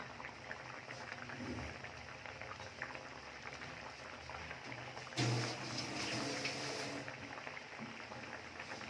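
A pot of tengra fish curry bubbles steadily on the stove, a soft continuous simmer with a brief louder burst of liquid noise partway through.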